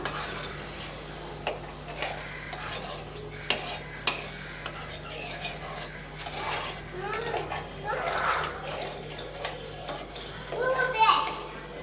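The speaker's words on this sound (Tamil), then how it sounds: "நல்லா கலந்து விட்டுறலாம்" A spoon scrapes and stirs potato masala in a metal pan, steady rasping strokes with light clinks, under a steady background hum with occasional speech.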